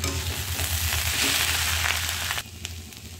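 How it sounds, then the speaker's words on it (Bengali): Small chuno fish stirred into Malabar spinach stems frying in oil make a loud, dense, close sizzle with soft scraping stir sounds, easing slightly toward the end, no talk. "এরপর আমি এতে এই চুনো মাছগুলো ঢেলে দিয়ে নাড়তে থাকছি।"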